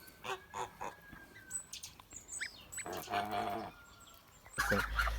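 Several bursts of honking, gabbling calls from Kholmogory geese and goslings, close by, with short pauses between and a louder clattering noise at the end.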